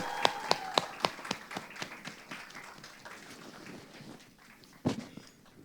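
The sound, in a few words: audience applause for music composer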